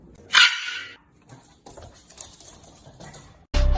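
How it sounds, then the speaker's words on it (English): A Shiba Inu dog lets out a shrill, piercing scream in one loud burst near the start, followed by quieter shuffling and a sudden loud noise at the very end. "they'll let out the infamous Shiba scream"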